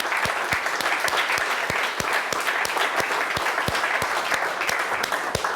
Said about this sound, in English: Should we just give Richard a big clap?